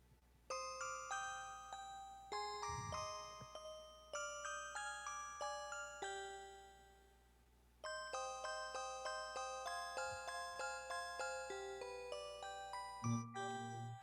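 Electronic keyboard plays a soft automatic rhythm accompaniment for the carol "What Child Is This?", with bell-like chiming melody notes over steady repeating pulses, gentle and close with no talk.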